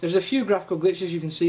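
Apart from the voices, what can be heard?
None of the usual background noises is heard.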